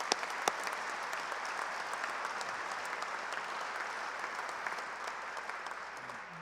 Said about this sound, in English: I want to send a round of applause for your service.